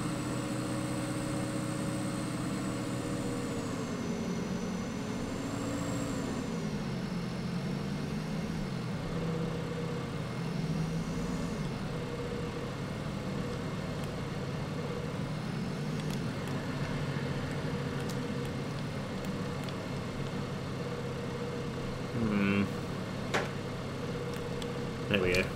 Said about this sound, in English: Perfect little farm tractor, just for towing the auger